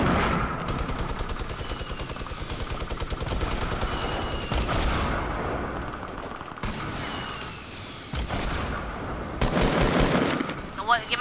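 Sustained automatic gunfire in Fortnite, rapid bursts of shots rattling almost continuously for the whole stretch, loud and close, with a few heavier hits mixed in.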